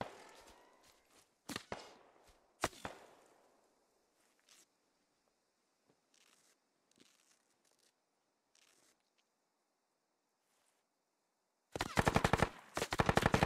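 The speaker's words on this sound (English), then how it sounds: "Silent still taking some shots at him" Gunfire in the military shooter Squad: a few sharp single shots early on, then scattered faint reports and quiet, ending in a loud, rapid burst of automatic fire close by.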